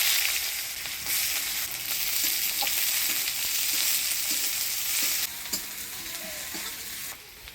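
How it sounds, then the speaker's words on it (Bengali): Black cumin and chopped onion fry in hot oil for a chorchori, a steady loud close sizzle with occasional stirring scrapes throughout. "এবার চচ্চড়িতে ফোড়ন দিচ্ছি কালো জিরা,"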